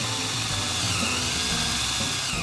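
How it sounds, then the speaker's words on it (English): A power drill bores a 3/4 inch hole, its steady high whine close and loud for the whole short burst, with a slight shift in pitch as the bit bites. "Next, I drill a 3/4 inch hole."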